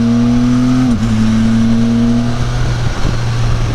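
A Can-Am Spyder F3 three-wheeled motorcycle engine droning loud and close while riding, holding a steady pitch with a slight dip in revs partway through.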